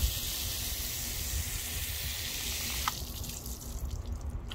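Water floods across a polished car panel coated with an all-in-one ceramic polish, a continuous hissing spray and rush that eases after a few seconds into softer dripping and trickling.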